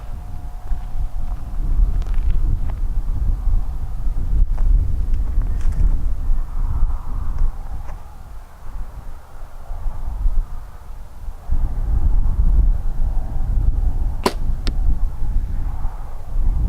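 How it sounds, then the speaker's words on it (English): Steady outdoor wind of about eight miles an hour from the west buffets the microphone in a low continuous rumble throughout, with a few faint clicks and rustles at an archery range. "I think we got maybe an 8-mile-an-hour wind coming from the west wind"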